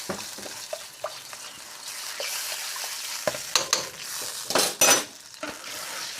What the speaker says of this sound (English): So I'm just going to cook that out for a minute or so.